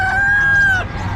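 A year-old turkey at a market gives a loud, close, wavering call lasting under a second, over a murmuring crowd background.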